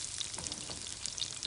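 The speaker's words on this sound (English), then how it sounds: "Oh, I love the sound of the sizzle." Onions sizzle in hot vegetable oil in a home kitchen, a soft, even frying hiss with small crackles.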